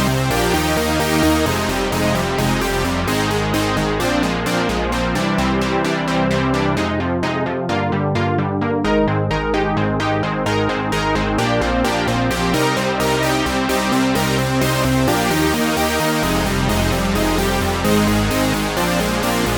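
Bright electro house synthesizer chord plucks, made in Massive, repeat in a fast, bouncy rhythm over a dense electronic backing, loud and continuous, with no voices.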